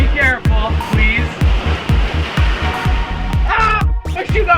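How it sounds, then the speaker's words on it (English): Turbulent ocean waves crash and wash over rocks on the coast near Huacachina, Peru, a loud, continuous surging roar close by, with people's voices breaking through in places. "the waves were quite turbulent that day"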